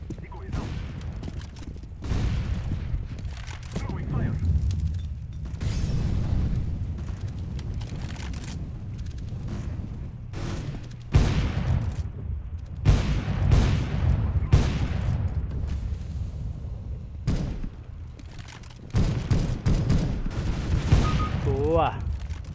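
Decoy grenade fake gunfire in the CS:GO video game, a long run of rapid, sharp gunshot bursts in repeated volleys, loud and fairly close, with occasional voices mixed in.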